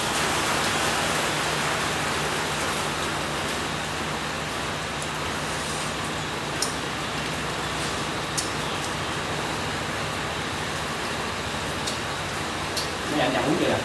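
Rain pours steadily outdoors, a loud, even, dense hiss with occasional sharper drops, and a brief voice near the end.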